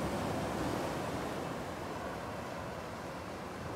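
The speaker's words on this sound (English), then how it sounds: "you can hear the ocean in the background" Ocean surf washes onto a beach along the West Coast Trail as a steady, dense roar that holds at an even level with no speech.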